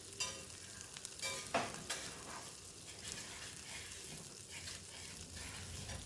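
Katla fish head mixture being sautéed in oil, a quiet close sizzle with several scraping, clattering strokes of a spoon stirring in the pan, soft and steady with no voices.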